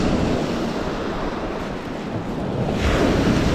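Surf rolls onto a rocky Lake Erie beach in winter, a loud, constant wash of breaking waves mixed with wind rumble on the microphone, swelling again toward the end.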